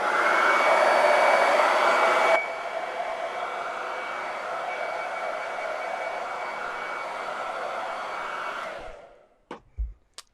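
A hair dryer blows hard and steady across watercolor character artwork made with 651 vinyl and dabbed with bright white paste. The close whir drops slightly in pitch after a couple of seconds, then cuts off, leaving a few light clicks.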